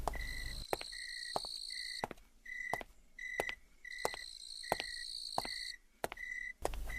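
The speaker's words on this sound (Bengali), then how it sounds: "চারিদিকে গাছপালা, ফাঁকা মাঠ, ঝিঝি পোকার আওয়াজ আসছে।" Crickets chirp in an open field on a moonlit night in a Bengali horror cartoon, rendered as a stylized, rhythmic pattern of bright repeated trills broken by sharp clicks, steady and close throughout.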